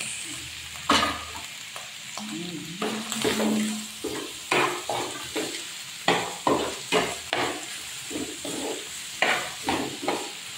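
Corned beef and potatoes frying in a pan, a continuous close sizzle broken by repeated sharp scrapes and knocks of a spatula stirring against the metal, no talking.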